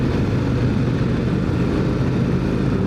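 A 2025 Harley-Davidson CVO Road Glide cruises at Daytona Beach Bike Week, its engine a steady, dense low rumble blended with wind roar, close and continuous with no talk.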